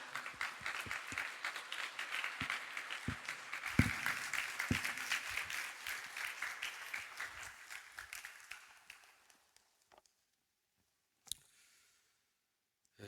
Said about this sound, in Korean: 오늘 이 시간은 강사 목사님 나오실 때 큰 박수로 환영하시기 바랍니다.